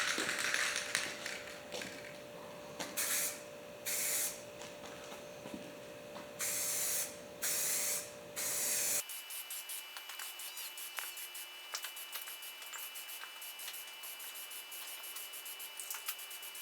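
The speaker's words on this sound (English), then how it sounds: "Let's shoot some paint." A spray gun applies Persian orange paint to a 1946 Allis Chalmers WC tractor fuel tank inside a barn. Several short bursts of hissing spray are separated by pauses, followed by softer background noise with faint clicks.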